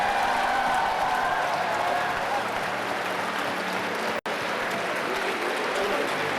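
A large audience at a May 2003 religious crusade rally in Moscow applauds continuously, a dense, sustained wash of clapping filling the hall with a brief dropout partway through.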